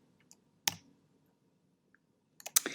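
A few faint, sharp clicks of keys pressed on a computer keyboard, one isolated tap followed after a pause by a quick cluster of clicks, heard close in a quiet room.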